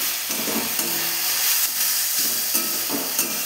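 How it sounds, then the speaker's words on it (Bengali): Water spinach stir-fried Bengali style in a pan sizzles and hisses steadily, with soft scraping stirs recurring every second or so. "দেখুন আপনারা, শাকটা প্রায় ভাজা হয়ে গিয়েছে।"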